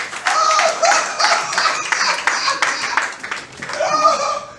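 A church congregation bursts into brisk, loud, close applause that rises, dips and surges again, with voices mixed in among the clapping.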